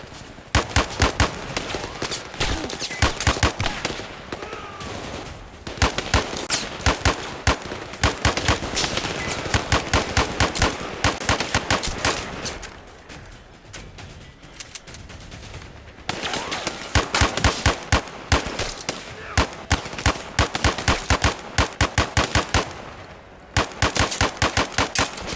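Rapid automatic 5.56 rifle fire in the Zero Caliber VR shooter game crackles in long, loud bursts, separated by short pauses and then resuming in dense volleys.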